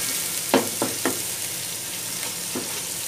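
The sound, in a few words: frying ginger garlic paste with onions in pot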